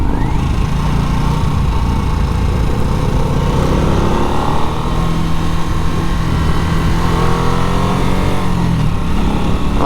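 A 2024 Harley-Davidson Nightster motorcycle engine pulls loud and steady in third gear during a test ride, its low rumble rising in pitch over wind noise with no break.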